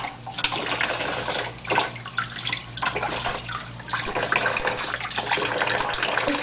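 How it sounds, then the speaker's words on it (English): Hands scrubbed under a running tap during a handwashing routine: a steady, fairly close stream of water splashing into a sink, with brief shifts as the hands move through the flow. There is no speech. "Scrub fingertips and between fingers."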